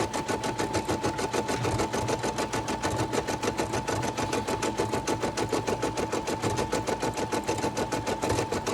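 A Brother SE 425 embroidery machine stitches steadily, its fast even needle rhythm running unbroken and close for the whole stretch with no voices.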